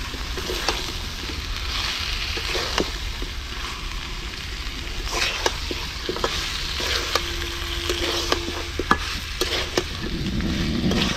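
Fried potatoes are stirred into a chicken biryani masala with marinated chicken, and the pan keeps up a loud, continuous sizzle, broken by frequent sharp knocks and scrapes of the spoon against the pan.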